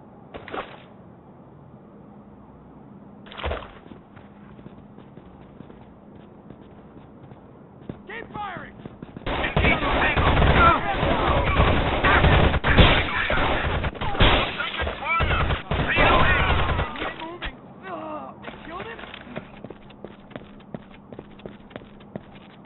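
Sustained Rainbow Six Vegas 2 gunfire erupts mid-clip in a dense, loud burst of rapid shots lasting several seconds, framed by sparse single cracks and quieter stretches. Game voices call out over the action.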